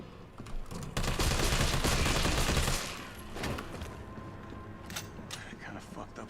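Gunfire aimed at police officers in Resident Evil 3 Remake, a loud dense burst of rapid shots lasting about two seconds, then scattered fainter shots and clatter, with a voice talking over part of it.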